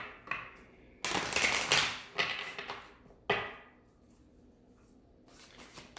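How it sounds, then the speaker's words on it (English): Rapid riffling and slapping bursts of a tarot deck being shuffled come in several close, loud runs with quieter gaps between. "I'm being asked to shuffle one more time."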